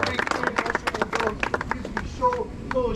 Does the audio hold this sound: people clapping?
yes